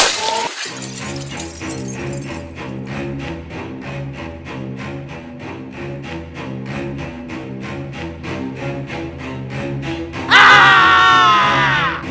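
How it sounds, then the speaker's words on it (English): Toy boxes smashed in a Lord of the Rings Sauron figure battle: one sudden loud crash near the end, over steady rhythmic music. "Boxes get smashed."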